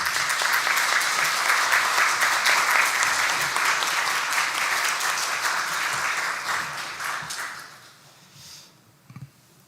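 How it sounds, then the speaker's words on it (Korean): A church congregation at a Sunday morning service claps in welcome for visiting missionaries, a full, even round of applause that thins and fades out near the end, leaving a few scattered claps. "환영의 박수 한번 하도록 하겠습니다"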